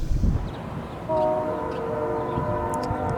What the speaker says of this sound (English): they heard trains in my video